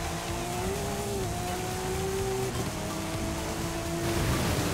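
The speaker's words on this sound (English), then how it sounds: "This car sounds so good." A steady car engine drone in the video game Forza Horizon 5 with rising and falling whine, like a racing car accelerating through gears, continuous over a constant rushing background.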